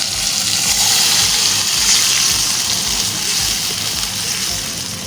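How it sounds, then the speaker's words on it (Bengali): Boiled chickpea dal pouring into a pan, a steady close wash of liquid splashing and sizzling that runs unbroken throughout with no talk. "এই ডালটা দিয়ে দেব।"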